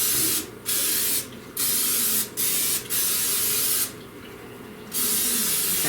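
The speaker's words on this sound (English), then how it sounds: "I'm going to spray it with my non-stick spray" Non-stick cooking spray hissing into a casserole dish in several short bursts, the last one longer, close to the microphone with no talking.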